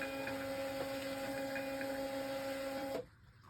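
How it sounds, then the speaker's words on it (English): A label printer steadily prints shipping labels, giving a continuous whirring drone with faint periodic ticks that stops abruptly near the end. "I hit the print."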